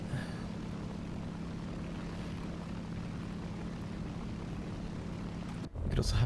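A propeller aircraft engine idles in a flight video game, a steady low droning hum with a constant tonal note, holding evenly before a sudden cut near the end.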